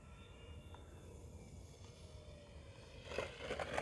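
An E-flite P-51 model airplane, 1.5 m span, comes in to land on a grass field, its electric motor a faint whine that swells a little near the end.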